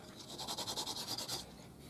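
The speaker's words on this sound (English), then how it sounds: "I'm going to use a small piece of cloth to work this Yorkshire grit in." A small cloth rubs Yorkshire grit into a spalted wooden box, giving a quick series of about a dozen close, rhythmic rasping strokes that stop abruptly.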